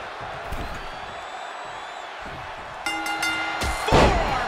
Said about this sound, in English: Forearm smash!